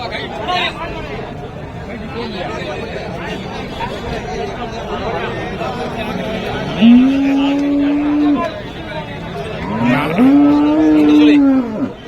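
Cattle at a cow market in Karimangalam give two long, loud, close moos over a steady hubbub of crowd chatter, with someone talking nearby.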